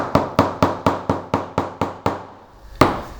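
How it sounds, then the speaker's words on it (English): A folding hammer taps a leather shoe upper in an even series of nine sharp knocks, followed by a pause and one last firmer blow, close and crisp with no voices. "I use the folding hammer."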